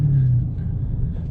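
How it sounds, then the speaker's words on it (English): A supercharged 2020 Dodge Charger SRT Hellcat Widebody V8 revs up close, a brief loud low rumble with a steady droning note that drops away into a rough idle-like growl. "Oh, listen to that supercharger."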